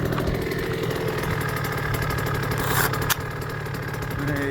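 A TC65 dirt bike engine idles steadily at close range, a continuous low buzzing putter with a brief sharper blip near the end, set on a muddy riding spot.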